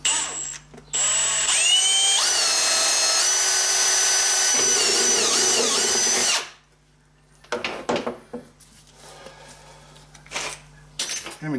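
Power drill whining loudly while drilling holes in a Harley motorcycle, a continuous high-pitched grind lasting several seconds before stopping abruptly, followed by scattered metallic clinks and handling noises.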